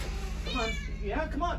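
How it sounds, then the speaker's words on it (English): A pet cat meows close by in a few short rising calls while a person coaxes it with quiet speech. "Sorry for my kitty cat yapping over there."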